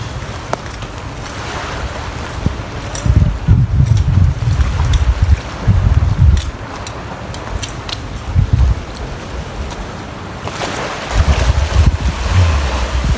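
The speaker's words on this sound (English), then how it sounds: "Grand little deserted beach" Waves break on a small deserted beach in repeated low rumbling surges, with gusts of wind buffeting the microphone. It's fairly loud and close, and no one speaks.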